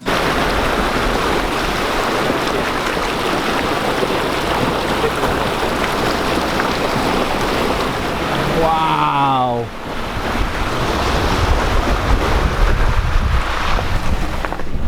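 A vehicle drives through deep river water on a river road, a steady loud rushing and splashing wash throughout, with a brief pause and a person exclaiming partway.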